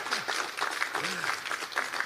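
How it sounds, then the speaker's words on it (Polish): Crowd applause greets a newly named science minister at a political party event presenting its government team: dense, steady clapping from many hands fills the whole stretch at an even level, with a faint voice briefly rising underneath. "Wielkie brawa."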